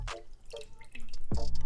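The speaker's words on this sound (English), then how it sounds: "then you're gonna take your warm water and just kind of gently pour that in" Warm water is gently poured into a mixing bowl for breadstick dough, heard as a few close, hollow drips and splashes that build into a fuller pour near the end.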